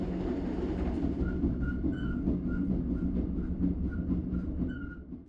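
A rural train running on rails through countryside near Yecheon, heard from inside: a steady rolling rumble with rhythmic wheel clicks and repeated squeals, fairly close and constant until it fades slightly at the end, with no voices.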